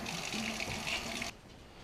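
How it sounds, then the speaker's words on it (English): Warm tap water runs into a kitchen sink in a soft, steady rush for about a second before cutting off to quiet. "I'm actually going to put some warm water in the sink"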